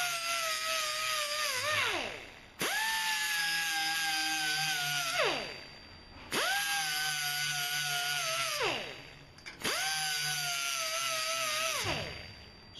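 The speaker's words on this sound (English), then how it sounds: "Some people use this kind of tool to do it with. You can use a Dremel." A Dremel rotary tool sharpening hedge trimmer blades whines in four separate bursts of a few seconds each. Its pitch sags slightly as it bites into the metal and falls away at the end of each run.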